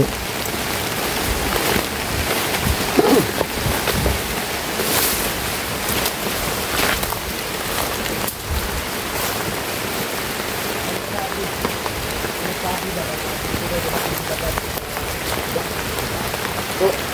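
Rain falls steadily outdoors, a dense, even hiss of drops striking the ground and nearby surfaces that holds without a break, loud and close throughout.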